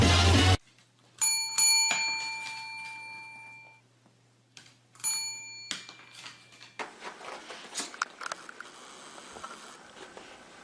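Bell struck by a dog in a played-back clip: two separate bursts of bright ringing chimes, each a quick run of strikes, then dying into noisy room rumble.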